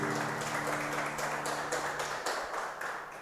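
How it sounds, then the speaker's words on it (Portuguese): A church congregation applauding together at a family service, a steady wash of many hands clapping over sustained low organ-like tones, fairly even in loudness throughout. "Vamos aplaudir ao Senhor"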